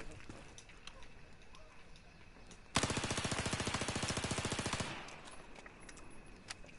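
Rapid automatic gunfire from a PDW-R in the video game Battlefield 4, zombies mode: one sustained burst of about two seconds with a fast, even rate of fire, loud over quieter game background noise.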